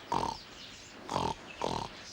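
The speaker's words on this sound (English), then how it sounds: "Now, the pigs, when they're frightened, they make the noise." Frightened pigs in Mauritius let out three loud, harsh squealing grunts in separate bursts, each lasting about a quarter second, with quiet gaps between and no talking.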